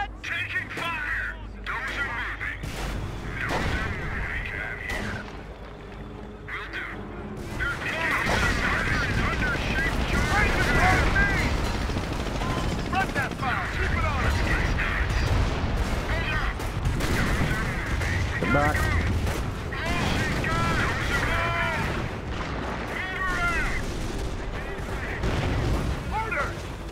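Gunfire and artillery from the WWII strategy game Company of Heroes, American campaign, rattle in steady bursts with booming impacts throughout, while a commentator and in-game unit voices talk over the battle.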